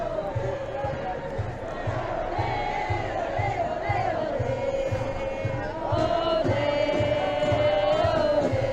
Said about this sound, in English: a crowd of this size on a hot Saturday afternoon in Dublin